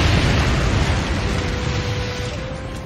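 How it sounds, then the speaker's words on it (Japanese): A character's body bursts apart in a fiery blast during a fantasy audio drama battle, heard as a dense, roaring rumble that stays loud and sustained throughout, with no voices over it. "火属性のダメージを受けたことでシャルティアの体が爆発。"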